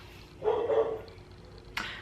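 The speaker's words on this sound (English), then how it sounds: "my dog's barking." Dog barking indoors, a short burst of two or three quick barks at moderate volume, followed by a brief higher yip at the end, with no talking.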